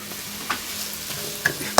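Soffritto vegetables with carrot and celery sizzle steadily in a hot pan, a constant hiss with a few faint clinks from a utensil.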